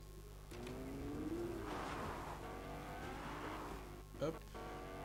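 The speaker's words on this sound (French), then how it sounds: "c'est des voitures de sport" Sports cars in the Fortnite video game drive with a steady engine drone that revs up and sweeps in pitch, then a brief sharp squeal near the end, all fairly quiet in the game mix.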